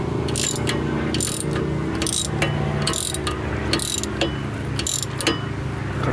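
A hand ratchet with a 12-point socket and an extension bar turns a bolt during an oil change and repair work, giving a steady series of rapid, loud clicking bursts in a quick repeating rhythm, alone without speech.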